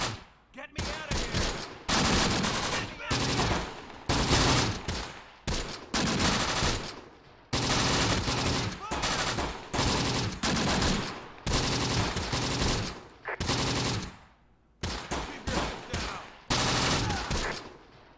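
Dense bursts of rifle and machine-gun fire from a rifle team in the Close Combat war game, set in Tunisia, come in repeated loud volleys of rapid crackling shots with short gaps between them and no talking.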